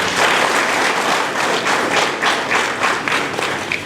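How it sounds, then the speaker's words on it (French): A crowd at a political rally of activists backing the president breaks into loud, dense applause, many hands clapping together in a sustained, close wash of sound with no voices standing out. "Applaudissez pour les forces."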